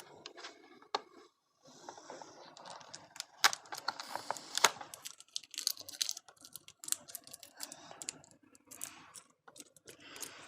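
Irregular crackling and sharp ripping clicks close by, bursts of sticky tape being pulled and peeled off an Akedo toy package, with quiet pauses between.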